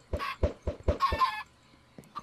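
Several clucks from a chicken in Minecraft, hatched from thrown eggs, come in a quick rhythmic series of five short bursts, followed by a brief crow-like call, then near silence with one faint later cluck.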